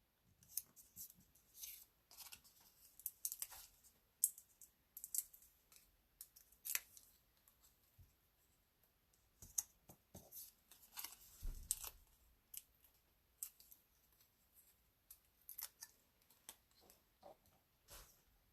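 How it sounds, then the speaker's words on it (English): Scissors or a trimmer clip the excess edges off paper cards in quiet bursts, a series of faint close snips and small rustles separated by short pauses. "so we'll trim the excess off the edges here"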